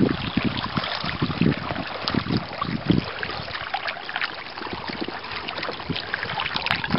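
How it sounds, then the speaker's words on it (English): A sailboat moves along on a broad reach in light wind, with continuous water swishing and splashing against the hull and steady wind noise close to the microphone. "Got some light air. Cooking along on a broad reach."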